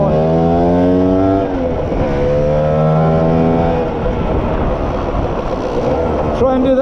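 A Lambretta 185 Casa scooter engine fitted with a PWK carburetor and dial-a-jet runs loud and close, holding a buzzing idle before revving up in rising sweeps, then settling into a rough, uneven note.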